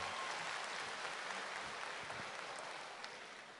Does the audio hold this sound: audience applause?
yes